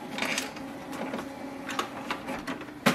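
Paper tray of an HP OfficeJet Pro 8210 printer being slid out and loaded with letter or A4 paper, faint plastic scraping, sliding and tapping sounds ending in a sharper knock, close and quiet with no talking.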